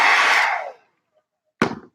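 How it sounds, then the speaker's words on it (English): Hair dryer running loud and close for under a second, then switched off as it winds down, followed by silence and a short thump. "It's the worst hair dryer ever."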